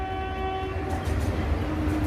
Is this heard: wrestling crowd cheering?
no